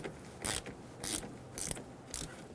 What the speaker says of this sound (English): Using a 10mm socket, loosen the negative terminal for the battery.